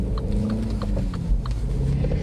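A 2017 Mini Cooper S 5-door pulls away with a low, steady engine rumble heard from inside the cabin, with faint ticks and knocks over the drone.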